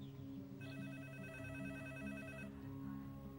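Telephone ringing with an electronic ringtone that repeats in rapid pulses for about two seconds and then stops, heard faintly over a low background hum.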